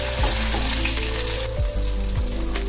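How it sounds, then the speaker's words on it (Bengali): Onion, tomato, garlic and green chili frying in hot oil while preparing mustard papda fish, a loud, close, steady sizzle broken by a few scraping stirs of a spatula against the pan. "পেঁয়াজ, কোরানো পেঁয়াজ, টমেটো, রসুন আর কাঁচা লঙ্কা, সমস্ত উপকরণগুলো দিয়ে একটু ভালো করে ভেজে নেব"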